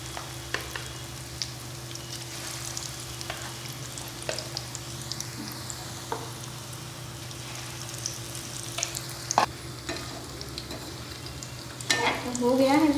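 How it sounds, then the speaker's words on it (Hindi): Potato pakoras deep-frying in hot oil, a continuous bubbling sizzle with occasional scrapes and stirring clinks, growing louder and more agitated near the end. "सब आलू पकौड़े तल लेंगे इसी तरह के"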